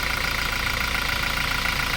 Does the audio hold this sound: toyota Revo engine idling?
yes